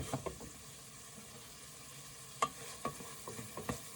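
Ravioli sizzles and fries in a reduction pan, a soft steady crackle close by, with a few sharper clicks and stirring knocks in the second half.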